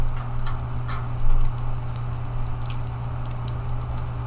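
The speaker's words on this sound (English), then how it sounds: "the bacon is actually cooking really quickly" Bacon and bread frying in oil in a pan, a steady close sizzle and crackle with scattered pops over a constant low hum, no voices.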